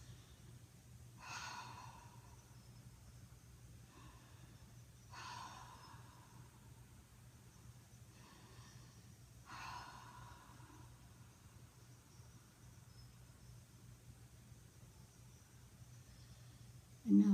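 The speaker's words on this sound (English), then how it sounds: "Take a few deep breaths." Several slow, deep breaths come during a guided meditation, heard as soft airy inhales and exhales spaced a few seconds apart, close and quiet over a faint steady hum.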